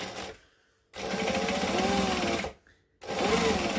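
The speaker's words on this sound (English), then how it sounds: "I'm going to take this and just top stitch along the top edge" Sewing machine top stitching along a fabric edge: two bursts of fast, whirring, rhythmic needle hum, the first about a second and a half long, the second starting after a brief pause, close and fairly loud.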